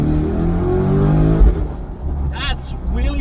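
A car accelerates hard from a standstill, its engine building into a loud, close roar with a deep rumble, while a voice talks over it.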